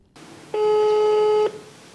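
A single steady telephone signal tone sounds for about a second, loud and clean with no talk, as a Ukrainian call is about to be redirected to voicemail.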